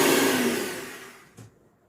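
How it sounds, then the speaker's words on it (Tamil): A kitchen blender mixing chicken shawarma ingredients at home roars loudly, then winds down and fades over about a second before a short pulse of motor noise, with no one talking. "நம்ம எப்பயுமே பிளெண்ட் பண்ணுற மாதிரி பண்ணக்கூடாது, நம்ம ரிவர்ஸ் பண்ணணும்"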